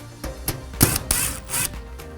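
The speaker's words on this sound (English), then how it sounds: "start tightening up the screws carefully" Screws being tightened on a hinged door frame, a series of short mechanical clicking and ratcheting bursts, close and fairly quiet, with no talk.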